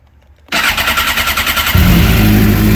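A 2008 Suzuki GSX 600 R motorcycle with a Yoshimura exhaust pipe fires up abruptly after a quiet moment, settling into a loud, close, throaty idle that swells heavier as it catches.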